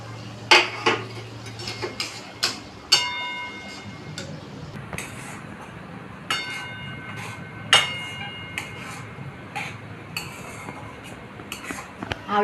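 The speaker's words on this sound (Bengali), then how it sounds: "আলুটা দিয়ে আমি কিছুক্ষণ কষিয়ে নিয়েছি, এরপর আমি ছানাটা দিয়ে দেবো।" A metal spoon stirs and scrapes spiced boiled potatoes frying in a pan for a potol dorma, making irregular clinks and ringing taps against the pan at close range over a low background hum.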